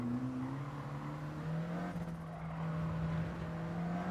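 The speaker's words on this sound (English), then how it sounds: "Love the little flutter on the turbo." A race car in a racing video game runs with a steady droning engine tone that rises slowly in pitch, carrying a faint turbo flutter, moderately distant and without speech.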